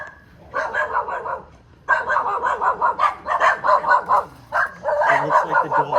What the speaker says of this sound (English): It looks like the dogs are out.